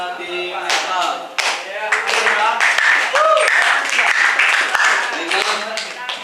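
Applause and clapping from an audience at a school debate final, a dense steady patter lasting throughout and mixed with voices and crowd noise.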